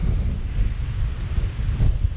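Strong wind gusting at around 20 to 30 mph buffets the microphone outdoors with a loud, continuous low rumble that swells and eases, with no other sound.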